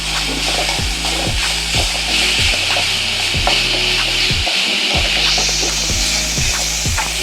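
Coconut and ginger frying in a pan, stirred with steady, repeated scraping strokes over a constant sizzle that stays close and fairly loud throughout.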